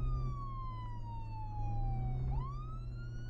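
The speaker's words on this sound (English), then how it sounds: "And our lights and our siren and our headlights." Emergency vehicle siren in the Flashing Lights video game, a steady wailing tone sweeping slowly downward then rising again over a constant low engine hum, loud and continuous with no talking.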